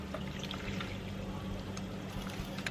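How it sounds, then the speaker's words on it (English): Strained pasta is poured back into a pot, giving a continuous soft rushing, wet sliding sound with faint clinks, close by and steady throughout, with no talking. "I'm gonna pour them back into the same pot."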